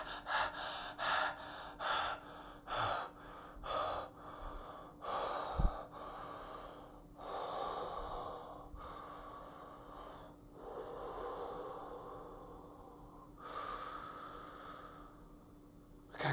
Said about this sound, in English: oh my God, I'm panting right now